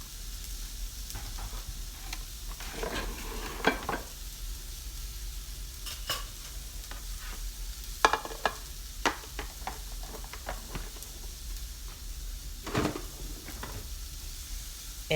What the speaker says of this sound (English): we're just gonna have some scrambled eggs